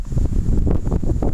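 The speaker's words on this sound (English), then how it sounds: "the north wind is gusting around 20-25 miles an hour" Strong north wind gusting at 20-25 mph across deep snowdrifts, a loud, continuous broadband roar buffeting the microphone with surging gusts and no voices.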